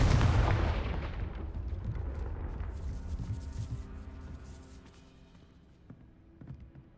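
A Confringo fire spell blast in the Hogwarts Legacy video game, a loud booming explosion that decays over several seconds into a low rumbling tail, followed by faint scattered clicks, with no talk.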